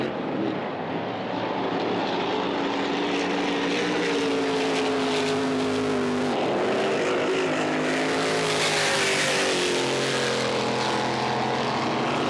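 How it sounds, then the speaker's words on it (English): Drag boat Destiny's supercharged 480 big block, fitted with a 1471 supercharger, roars steadily and loudly at a drag boat championship in Windsor, its engine note climbing and shifting as it revs, with no voices over it. "So that's Destiny, that's a 480 big block with a 1471 Supercharger"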